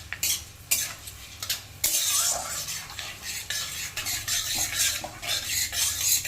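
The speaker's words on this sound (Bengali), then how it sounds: "ফোড়নটাকে একটু ভালো করে ভেজে নেব কম আঁচে।" Panch phoron and cumin seeds fry gently in oil on low heat, giving a soft, steady sizzle broken by repeated metallic scrapes and clinks of a spoon stirring against the pan, close up, with no talking.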